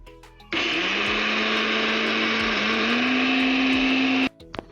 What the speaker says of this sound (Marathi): हे बघा मिक्सरमधून आपण पोहे फिरवून घेतले छान बारीक झाले